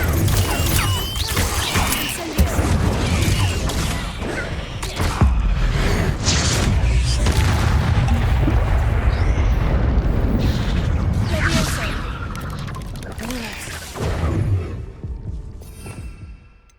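Incendio fire spell blasts cast in Hogwarts Legacy, loud booming bursts of fire repeating over a sustained roaring rumble, with a voice calling out the spell.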